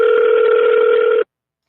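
A single steady telephone ring tone from an unanswered call, one loud sustained burst lasting just over a second before cutting off to silence.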